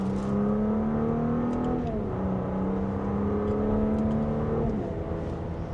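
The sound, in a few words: Audi SQ5 accelerating in dynamic mode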